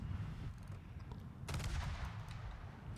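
Cannon fire in the game World Of Wars booms in a quick burst of sharp blasts, followed by rumbling echoes against a low, noisy background.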